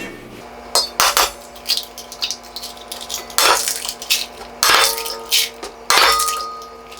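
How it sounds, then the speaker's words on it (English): Eggs tapped and cracked into a pan in a home kitchen, heard as a series of sharp clinks and knocks spread across several seconds, with ringing metallic clangs from the pan between them and no talking. "I got them ready, so I'm going to break those in a pan."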